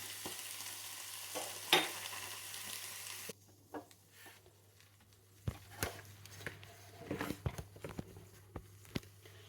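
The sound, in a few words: garlic and onion frying in a pan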